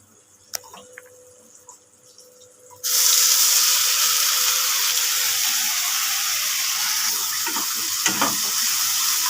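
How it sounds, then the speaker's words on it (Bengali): Ginger, garlic and onion paste dropped into hot oil in a pan: after a few quiet seconds with small clinks, a loud, close, continuous sizzle bursts in abruptly and holds steady to the end, with occasional stirring knocks. "পেঁয়াজ আদা রসুনটা একসাথে ভালো করে ভেজে নেব"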